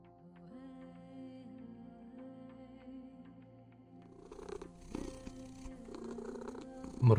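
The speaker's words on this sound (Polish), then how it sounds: "Mruczymy." Cat purring in the video game Copycat, a close, steady rumbling purr under soft game music, rising with brief louder rustles toward the end.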